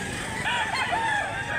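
A rooster, a three-year-old cock priced at 3,500 at a farm in Mantalungon, Barili, Cebu, crows once loud and close, its wavering call stretching across the whole short moment.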